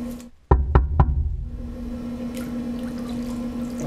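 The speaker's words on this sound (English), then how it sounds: "I'm gonna knock on this metal part right here, just like this." Three sharp knocks on a metal part ring out underwater in quick succession, followed by a steady low hum and faint bubbling water.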